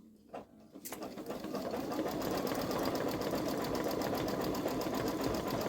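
A Babylock Solaris embroidery machine starts up after a couple of faint clicks and settles into steady, rapid needle chatter while sewing satin stitches on an in-the-hoop zippered bag, close and continuous.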